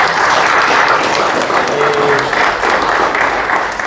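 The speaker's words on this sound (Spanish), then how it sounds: "les pido un fuerte aplauso" An audience at a book presentation applauds loudly and steadily for the whole stretch, a dense wash of clapping from a room full of people that tapers only slightly at the end.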